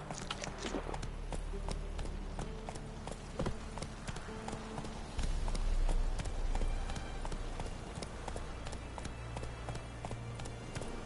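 The horse Roach gallops in The Witcher 3 on PS4, with steady, rhythmic hoofbeats that continue throughout at a moderate, close level over soft game ambience.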